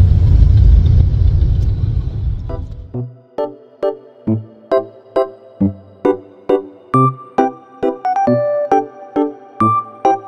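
Congested road traffic in the Philippines on a hot morning, heard first as a dense, steady rumble for a few seconds, then giving way to a regular series of sharp, tonal ticking pulses, with no talk.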